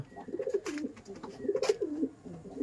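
Madrasi pigeons coo in a steady series of soft, throaty calls, close by and fairly quiet, with faint chirps behind them.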